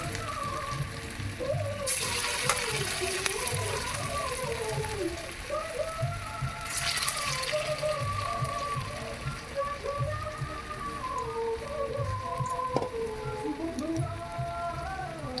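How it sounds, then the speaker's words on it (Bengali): Flattened pointed gourd fritters deep-frying in hot oil in a wok, a steady rain-like patter of bubbling with brief louder bursts as pieces are dropped in, close-up and moderately quiet, no one talking. "এখানে আমি একটি কড়াইয়ে তেল গরম বসিয়ে দিয়েছি। এখন বড়ার সাইজ করে একটু একটু করে গোল করে চ্যাপ্টা করে এর মধ্যে আমি ছেড়ে দিচ্ছি।"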